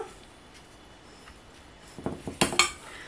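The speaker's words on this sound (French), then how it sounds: "Je les mélange quand même, comme ça prendra un peu l'humidité des carottes." Small pasta and grated carrots being stirred together in a bowl: after a quiet stretch come a few close clinks and scrapes of a utensil against the dish, with no talking.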